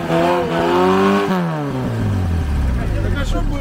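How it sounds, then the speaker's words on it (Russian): An off-road car engine revs loudly and falls away, its exhaust pipe full of water so the outlet gurgles and burbles, with excited voices talking over it close by. "А ну еще раз газони! Пока булькает, давай!"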